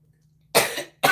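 Two sharp, close coughs in quick succession after a brief silence, the first drawn out and the second abrupt, with no talk.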